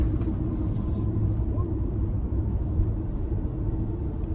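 A car engine idles inside a moto van lined with Thinsulate insulation, giving a steady, muffled low rumble that holds even and continuous throughout.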